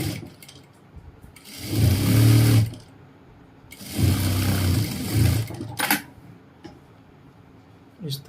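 A sewing machine stitches the facing on a pair of trousers in two steady, loud runs of about a second and a half each, with quiet handling and a short burst in between.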